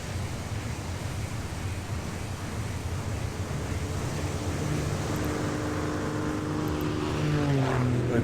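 Propeller aircraft droning steadily as planes launch from a carrier in a naval wargame set at Midway, a dense constant roar that swells slightly toward the end, with no talk.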